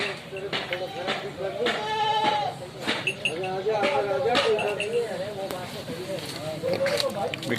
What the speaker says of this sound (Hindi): बड़ी बकरी जंबो बकरी है माशाल्लाह।